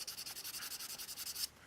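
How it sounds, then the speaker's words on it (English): A guitar pick is rubbed on 400 grit sandpaper in about a dozen quick, even back-and-forth strokes, a soft, close, raspy scratching with no voices. "it's time to come in with, firstly, some 400 grit sandpaper"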